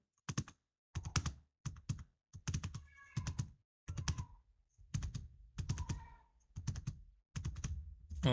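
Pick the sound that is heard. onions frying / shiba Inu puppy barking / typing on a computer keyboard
typing on a computer keyboard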